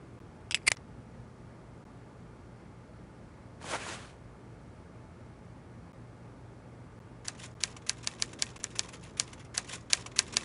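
A typewriter clacks away behind a locked door in an Agatha Christie Poirot drama: a couple of isolated strikes, a brief rattling burst, then a quick run of sharp, evenly spaced keystrokes, muffled in a quiet room.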